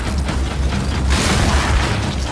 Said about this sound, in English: The Nasher is going to get you the most satisfying shots, covering you in blood.